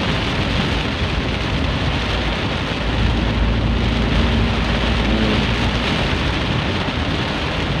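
Dense, constant heavy rain drums hard on a car's roof and body while driving, poor sound insulation letting it in, a loud unbroken hiss with a low rumble underneath.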